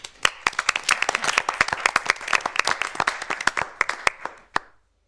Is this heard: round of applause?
yes